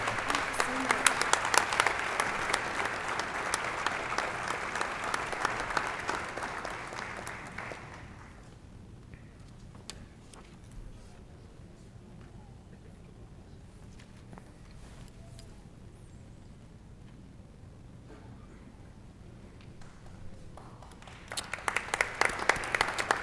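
An audience at a police department awards ceremony claps loudly for several seconds, fades to near quiet with scattered claps and a low voice, then breaks into applause again at the end.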